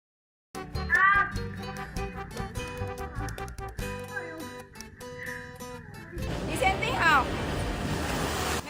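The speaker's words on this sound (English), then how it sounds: "Woman posing for a picture near the water got blasted by a huge wave at night" A large ocean wave crashes against the shore at night, a loud broad roar of surf and spray surging in the second half, with wind noise and people's voices and shouts heard throughout.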